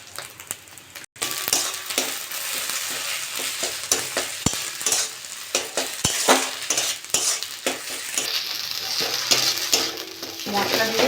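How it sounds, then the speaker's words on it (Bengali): Spices sizzle steadily in a hot pan while chili, cumin and coriander powders with a pinch of sugar are stirred and dry-fried, with frequent scraping and clicking of a utensil against the metal throughout. "মশলা দিয়ে ভালো করে এরকম করে নেড়ে শুকনো মতন একটু করে নিতে হবে।"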